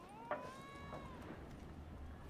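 A cat gives a short, faint meow in The Witcher 3, followed by a softer second call against a quiet, low background.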